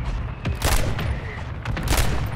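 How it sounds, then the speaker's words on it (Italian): Gunfire in the Call of Duty: Warzone video game, with two bursts of sharp shots, one around the middle and another near the end, over a steady background rumble. "Credo che siano sopra il ponte perché sento gli spari"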